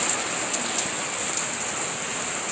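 Steady rain falls in a mountain setting, a dense, even hiss of drops with occasional brighter spatters, continuous and close throughout with no voices.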